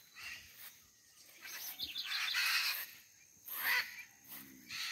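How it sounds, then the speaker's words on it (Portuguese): Macaws calling outdoors in rural countryside near Itu, Brazil, a few harsh squawking bursts at moderate distance rising and falling over background insect and bird chatter. "Agora tem arara."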